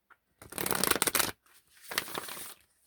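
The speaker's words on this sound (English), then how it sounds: "Just going to do a quick shuffle." Tarot cards shuffled in two quick bursts of riffling, close and crisp, with a short pause between them.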